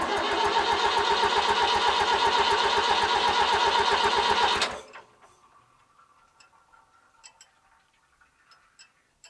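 A David Brown 990 Selectamatic tractor is cranked over with loud, rapid, evenly pulsing churning for several seconds that cuts off abruptly, leaving near silence with faint scattered clicks.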